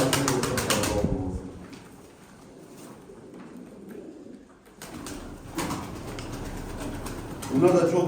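Pigeons in a coop in Derik, Mardin coo continuously at close range, with soft rustling and flutters in the background throughout.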